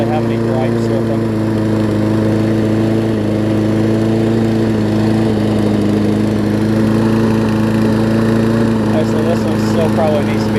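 A small Kohler engine on a Toro self-propelled lawn mower runs steadily at a constant idle, running a little rough, a droning, slightly uneven hum heard up close with no pauses.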